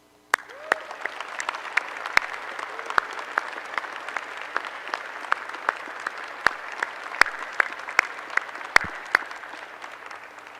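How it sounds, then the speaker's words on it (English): An audience at a 2021 medical school convocation applauds in a large hall: a steady wash of clapping with individual sharp claps standing out, sustained for about ten seconds after a brief quiet start. "I invite you to please join me in a round of applause"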